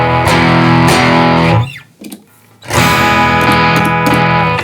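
Condor pedal on its dirty channel gives a loud, dense distorted electric guitar with sustained harmonically rich chords, cutting out briefly for a near-silent gap before the driven tone returns at full level.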